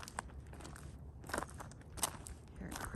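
Footsteps crunch over dry rocks and leaves on a nature trail, a few separate, close scraping crunches spaced irregularly across a quiet outdoor background.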